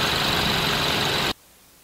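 A Kia Soul with a 1.6-liter inline-four engine idles in a steady, dense hum that cuts off abruptly near the end, leaving near silence.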